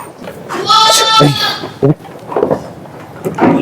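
A sheep bleats loudly nearby on a sheep farm with a large shed, a long wavering cry, followed by shorter bleats and some muffled talk.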